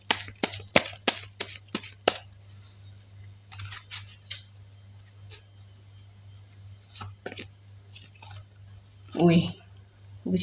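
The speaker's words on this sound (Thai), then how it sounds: "แม่หมอสับไพ่แล้วนะคะ สับไพ่เรียบร้อยนะคะ สับละเอียดยิบ" Tarot cards shuffled by hand in a quiet room, a quick burst of crisp riffling snaps at first, then scattered softer card slides and taps, over a steady low hum, with someone speaking.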